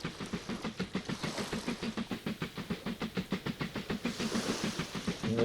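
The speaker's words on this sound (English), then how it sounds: "we can see the train coming on, and then we'll follow it across the bridge." A steam train runs in the railway-building video game Mashinky, giving a steady rhythmic chuff of regular puffs with hiss, moderately loud and unbroken, with no talking.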